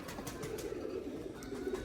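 Pigeons offered for sale to fanciers coo steadily, a low throaty murmur repeating through the short stretch with no talk over it.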